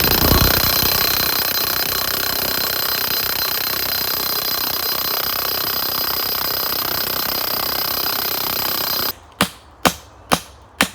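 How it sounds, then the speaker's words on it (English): A petrol post driver runs as a loud, continuous pounding roar while it drives a fence post, then cuts off and leaves a few separate sharp bangs. "That is the beauty of the easy petrol post driver"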